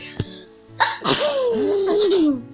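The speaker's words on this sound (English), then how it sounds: "yeah, I sneezed at Blackwell." One person sneezes loudly and close by: a short intake, a sharp burst, then a drawn-out voiced tail that falls in pitch.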